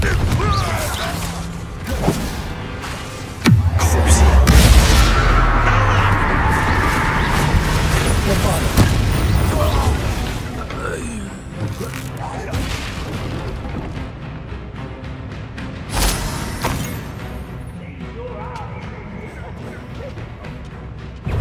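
A Confringo spell blast in Hogwarts Legacy erupts with a loud, deep boom, followed by crashing, creaking debris and scattered impacts fading over many seconds.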